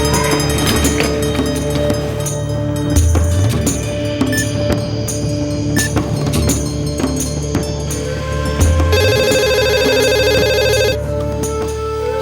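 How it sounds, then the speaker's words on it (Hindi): A mobile phone ringtone rings loudly and close by, its repeating melodic pattern carrying on for several cycles with no talk over it. "सर जी वो स्टाफ रूम में आपका मोबाइल बज रहा है"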